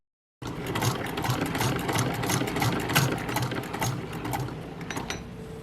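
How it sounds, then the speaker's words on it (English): A 1941 Singer Model 128 hand-crank sewing machine stitches steadily, its loud, close mechanical whir and rapid needle clatter running continuously after a brief silent start, with no talking. "A hand crank sewing machine is much faster than hand stitching, but very slow in comparison to a motorized machine."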